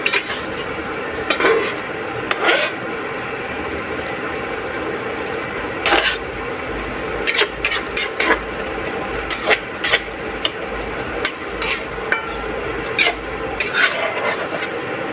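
Lote fish curry being stirred in a pan, a low bubbling simmer broken by repeated sharp metallic scrapes and clinks of the spoon against the pan, coming in irregular bursts throughout.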